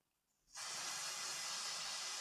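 A single continuous aerosol root concealer spray hisses loudly and close onto hair for about two seconds, starting abruptly after a brief quiet moment.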